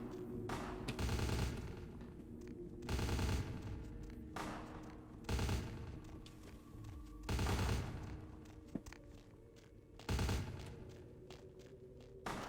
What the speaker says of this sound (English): We just hear the gunshots